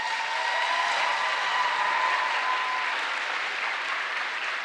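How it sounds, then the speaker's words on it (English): A convention hall crowd at the ICNA-MAS Convention 2022 in Baltimore gives a long, even round of applause. It is a continuous wash of clapping throughout, with no speech over it. "please do give him one last round of applause."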